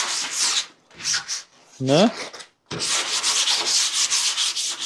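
Hand sanding on a DIY bass boat, with several close, rough, rasping strokes in rhythmic bursts separated by brief pauses. A short spoken interjection breaks in once.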